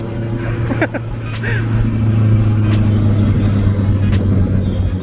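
Steady low engine drone with rumbling exhaust from a moving Honda CB650F motorcycle, fairly loud and continuous, with wind noise and faint background voices.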